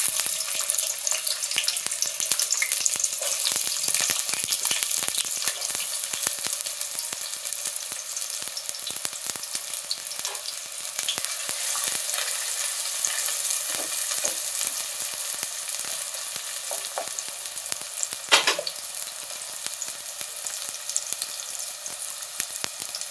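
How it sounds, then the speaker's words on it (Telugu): Sliced onions sizzle and crackle steadily in hot oil in a pan for an aloo masala potato curry, a continuous dense frying hiss with occasional stirring, close and alone without talk. "నూనె వేడెక్కిందండి, ఉల్లిపాయలు వేసుకుందాం."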